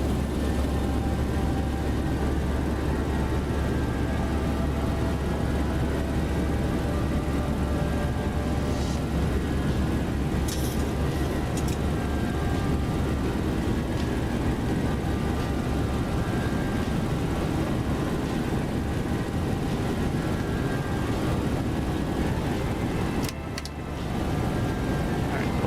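Boeing 737 in flight in the X-Plane 12 simulator, Southwest livery, climbing after takeoff: a steady, loud, broadband engine and cockpit roar with a low hum, continuous throughout with brief clicks and a short dip near the end, no talking.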